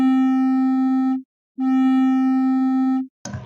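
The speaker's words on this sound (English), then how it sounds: "So you can hear quite a bit of distortion" A pure sine tone run through a distortion plugin in FL Studio, heard as a steady, loud, harmonically rich buzz in two sustained bursts with a short gap between them, ending in a brief noisy crackle.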